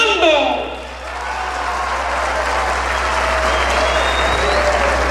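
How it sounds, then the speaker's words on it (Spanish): A crowd applauds at a bull riding tournament, a burst of clapping that swells then settles into sustained applause, with an announcer speaking at the start. "¡El aplauso para el comando!"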